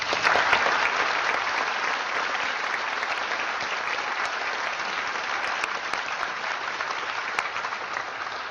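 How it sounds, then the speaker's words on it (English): Debate audience gives a full round of applause for the guests at an arts centre, a dense, steady wash of many hands clapping that stays loud and even for the whole stretch. "may I have a round of applause for our guests"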